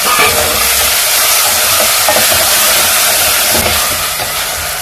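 Tomatoes with salt get stirred in a hot pan, giving a steady, loud sizzle and frying hiss with soft scraping from the stirring running throughout.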